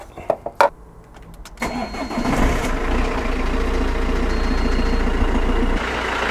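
A car engine is cranked and started after its battery is charged with a Topdon Tornado 4000 charger. A few clicks come first, then a brief crank, and the engine catches into a steady close idle.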